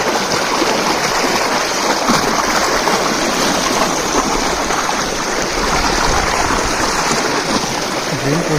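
Strong water flow pouring out of a drain that runs off farm fields, a loud, unbroken gushing rush that holds steady from start to finish, with no voices.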